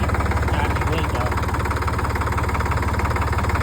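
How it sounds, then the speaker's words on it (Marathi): A tractor engine idles steadily with a close, even low throb and no change in pace. It runs while its large battery has been taken out and a car battery is hooked up to charge. "ट्रॅक्टर चालू आहे आता"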